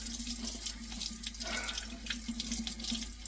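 A kitchen faucet runs steadily into a sink while vegetables are rinsed for a slow-cooker beef stew, a close continuous splashing stream with no voices.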